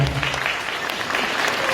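Wedding guests break into a burst of applause, steady dense clapping throughout a short stretch, fairly loud and close, with a voice faintly underneath.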